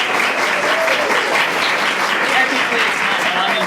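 A room at a board of education meeting fills with steady, sustained applause, a wash of many hands clapping evenly throughout with no pauses.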